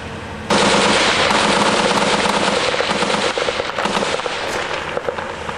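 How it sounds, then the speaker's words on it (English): Live nighttime firefight with parachute flares: dense, sustained machine-gun fire crackles loudly and continuously after a sudden start, with rapid overlapping bursts and pops. "You're seeing a firefight live in action."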